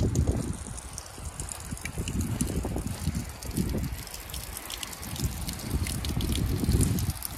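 Water trickles and drips at a drinking-water spot in a high-mountain village in Dusheti district. It is a continuous, close, splashing flow with small bursts, and no one speaks.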